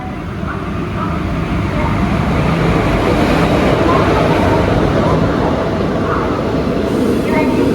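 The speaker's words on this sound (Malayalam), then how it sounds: "കണ്ണൂർ ആലപ്പുഴ എക്സിക്യൂട്ടീവ് എക്സ്പ്രസ് വരുന്നുണ്ട്." Kannur–Alappuzha Executive Express pulled by a WP4 locomotive arriving, a loud, steady rumble of wheels and carriages that builds slightly and holds close throughout, with no voices.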